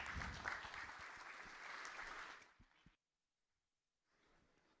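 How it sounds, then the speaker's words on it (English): Conference audience applause welcoming a speaker on the second day, a loud sustained wash of clapping that fades out over a couple of seconds, then near silence and a faint murmur of room noise. "please welcome him with a big round of applause"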